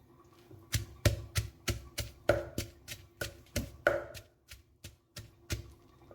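Garlic and whole coriander plants are pounded in a mortar with a pestle, about fifteen sharp, evenly spaced thuds in a steady rhythm, close and fairly quiet.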